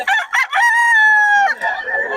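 A rooster crows loudly and close by, one long drawn-out call with a rising start and a trailing finish.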